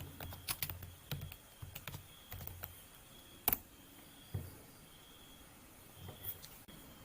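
Keys on a computer keyboard tapped while entering a command in a command prompt, with scattered clusters of close, crisp clicks separated by pauses and one sharper isolated key hit, heard alone.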